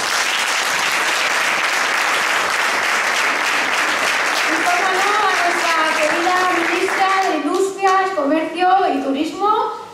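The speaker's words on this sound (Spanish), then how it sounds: "Santiago Llorente, para quien pido un aplauso." Loud, sustained applause from an audience at a PSOE Leganés award event in Madrid, steady clapping filling most of the clip before thinning into scattered claps and cheers near the end.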